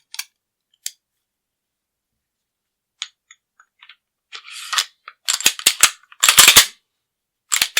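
Sig P239 SAS pistol being put back together, its barrel and recoil spring dropped in with sharp metallic clicks and snaps, sparse at first, then clustered rattling near the end, close and loud.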